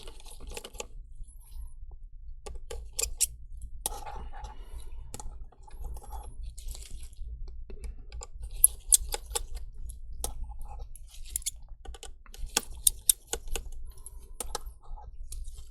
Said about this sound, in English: So I'm removing 1, 2, 3, 4 screws.